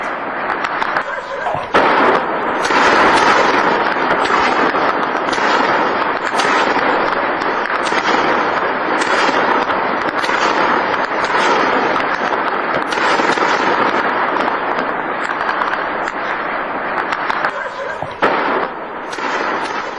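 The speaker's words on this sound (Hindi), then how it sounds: "बैक टू बैक 5 से 6 धमाके जिनकी आवाज सुनी गई।" Continuous loud rumbling and crackling blasts, like a rapid series of explosions, fill the scene with dense noise throughout, with brief dips between bursts.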